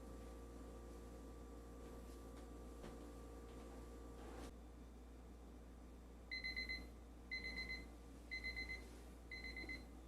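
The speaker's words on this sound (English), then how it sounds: "Now my timer is going off" A kitchen timer rings after herbal tea steeps: four short bursts of bright electronic beeping, each a quick cluster of tones, following several seconds of low room hum with no talking.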